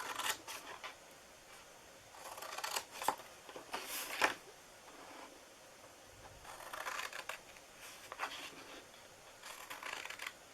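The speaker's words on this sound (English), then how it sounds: "I'm going to cut a little bit in here" Scissors cut paper for a double-heart treat box, giving soft, intermittent snipping and rustling at close range in a quiet room.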